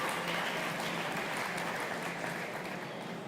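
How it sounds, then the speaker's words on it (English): Applause from a farm show audience welcoming panelists onstage, a steady wash of clapping held at an even level throughout. "Please give them a round of applause"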